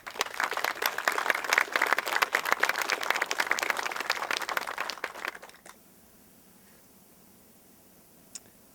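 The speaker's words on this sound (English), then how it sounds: "just a round of applause" Applause for Gold Star families at a Marine monument anniversary ceremony: a crowd claps densely and steadily for about five seconds, then it fades to quiet room tone with one faint later tap.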